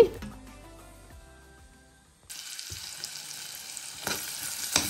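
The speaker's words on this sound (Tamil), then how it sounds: "அதுக்கு நான் வெங்காயமும் கருவேப்பிலையும் காஞ்சி கொச்சிக்காய் கடுகும் போட்டு நான் தாளித்து அதான் இதில் ஊற்ற பார்க்குறேன்" Tempering of onion, curry leaves, dried chillies and mustard seeds: after a fading musical tone, a sudden loud hiss of frying bursts in and holds steady, with a few stirring clatters near the end.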